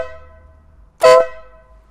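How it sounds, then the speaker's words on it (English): A single loud, sharp horn blast from a 2022 Ural motorcycle's compressor-driven horn cuts in after a quiet moment, bright and piercing, lasting about a quarter second before stopping abruptly. "So the horn is a direct drive compressor."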